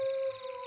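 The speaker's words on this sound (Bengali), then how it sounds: "চারপাশে ঝিঝি পোকা ও শিয়ালের ডাক" A jackal howls at night, a single sustained tonal call with a steady pitch that holds and then eases slightly in strength, heard fairly close with no other sounds around it.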